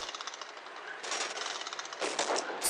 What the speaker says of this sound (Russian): Он как начинает своим пулеметом накидывать